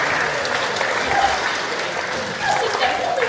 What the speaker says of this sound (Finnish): annetaan aplodit Nipsulle